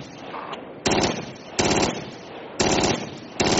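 Video game machine-gun fire in four loud, close bursts of rapid rattling shots with brief gaps between them.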